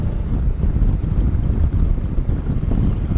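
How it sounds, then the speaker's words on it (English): Strong wind buffets the microphone in a continuous low roar, loud and gusty, while riding a 2017 Honda Africa Twin motorcycle. "Man, it's windy down here now."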